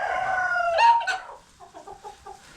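Chickens and young roosters of the green-legged breed in a henhouse give loud, close clucks and squawks, then a run of softer, rhythmic clucking calls.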